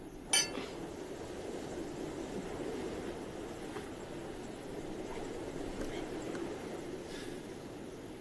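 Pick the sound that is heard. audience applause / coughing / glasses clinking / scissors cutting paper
glasses clinking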